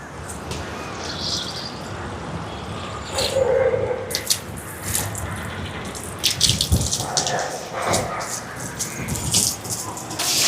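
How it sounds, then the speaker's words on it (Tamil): Water pours and gushes into a cooking pot outdoors during heavy rain, with metallic rattling of the vessel and steady rainfall underneath; the pouring swells and surges in bursts, close and fairly loud. "இப்போ எங்களோட உலைக்கு தேவையான அளவுக்கு தண்ணியை நிறைச்செடுப்போம்."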